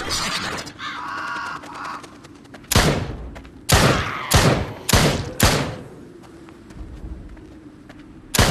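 Shotgun blasts from zombie headshots in the VR game Drop Dead: Dual Strike Edition, four or five loud, sharp booms spaced about a second apart, with game ambience and a brief electronic tone before them.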